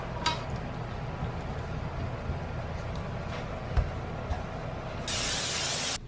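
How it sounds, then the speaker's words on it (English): Oil sprays onto a pizza pan in a home kitchen in short, soft hissing bursts, then one sustained hiss near the end, heard close with faint clatter and no voices. "I spray the pan with oil."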